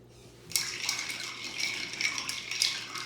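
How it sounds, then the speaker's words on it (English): A spoon stirs a Bitter Giuseppe cocktail over ice in a mixing glass, a soft, continuous rattle and swirl of ice that starts abruptly after a brief quiet pause and stays faint and close. "And now we're ready to stir."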